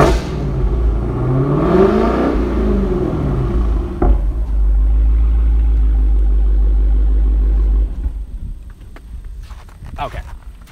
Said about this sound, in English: So I'm going to give you guys a little bit of a rev on the Hellcat.